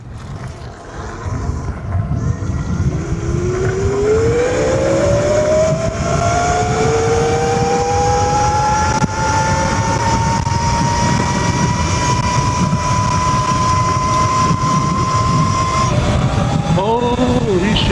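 An electric bike with an XPRO DRAX X controller and Fatdriver 72680 motor set to 550 amps runs steadily, its rising whine sweeping upward over a loud, constant broadband roar for about fifteen seconds before cutting off.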